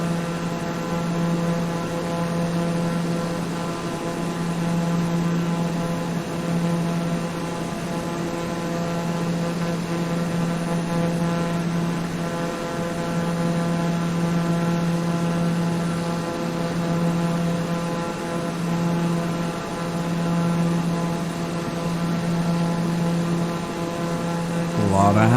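An aircraft in flight, a continuous steady engine drone and hum filling the cabin, loud and unchanging throughout.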